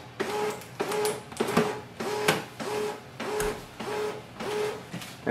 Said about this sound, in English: Switch on the printer.